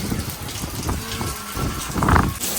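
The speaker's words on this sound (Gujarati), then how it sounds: "તો ગાઈઝ એવો વરસાદ પડે છે" Steady heavy rain pours down with a broad hiss, swelling louder near the end, with wind blowing; a faint voice may murmur underneath.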